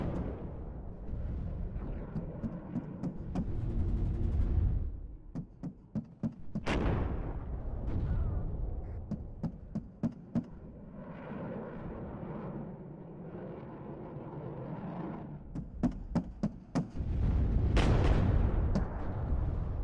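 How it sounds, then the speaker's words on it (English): Artillery barrages and impacts in the WARNO real-time strategy game, heard as repeated sharp booming blasts in clusters with a rumbling low background, fairly loud and with no speech. "Seeing his artillery trying to hit"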